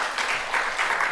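A church congregation applauds during a worship service, a brief burst of dense clapping in a reverberant hall.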